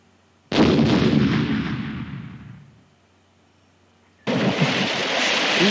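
Gunfire effects from a Philips CD-i shooting game: a heavy blast with a long rumbling decay into silence, then a second loud burst of shooting that keeps going to the end.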